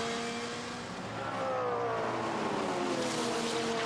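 BMW race car engine on the Zandvoort circuit during a 2011 Dutch Supercars race, a loud sustained drone that holds steady, then rises in pitch and intensity as the car climbs the hill.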